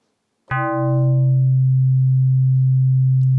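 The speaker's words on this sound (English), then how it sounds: "It will remain the sine wave without any modulation" Waldorf Quantum/Iridium synthesizer playing a sustained low sine tone, starting with a bright, rapidly decaying FM burst of overtones before settling into a pure, steady, unmodulated hum held to the end.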